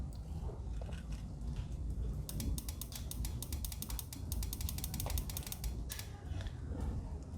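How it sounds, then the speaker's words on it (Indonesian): Car horn relay clicks in quick bursts of sharp metallic ticks, fairly faint, over a steady low engine-bay rumble with brief pauses between runs. "di bagian relaynya juga bunyi cetik-cetik ya"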